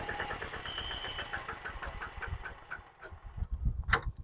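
A Japanese car engine idles smoothly, its steady rhythmic pulsing close and even throughout, with a sharp metallic click near the end.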